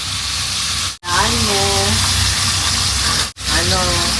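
Pinakbet vegetable stew frying in a pan, a steady loud sizzle filling the clip, briefly cut twice, with voices talking faintly underneath.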